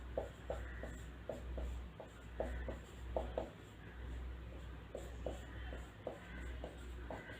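Pen or chalk strokes writing out a math sequence by hand during an exam-solution lesson, a steady run of short scratchy strokes in rhythmic bursts, close and fairly quiet, with no talking.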